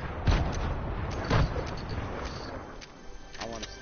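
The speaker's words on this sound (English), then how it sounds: "I'm throwing grenades." Grenades exploding in a shooter video game, with two heavy booms early on followed by lighter gunfire pops and scattered game noise, at moderate loudness.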